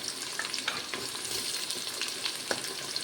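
Sliced onions frying in hot ghee in a pan for mutton biryani, a steady close crackling sizzle with sharp pops and stirring scrapes, with no voices.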